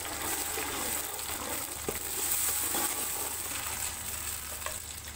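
Ginger, garlic and red tomato masala paste hits a hot pan and sizzles steadily and fairly loudly, with a few faint stirring clicks and no talking.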